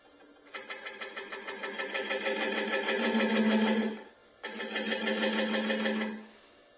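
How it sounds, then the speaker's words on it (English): A dull tool scraping a wooden bowl spinning on a lathe, a rapid rhythmic chatter that swells steadily, breaks off briefly, then resumes before stopping, close and fairly loud. "That, according to what I understand, is the sound of a dull tool."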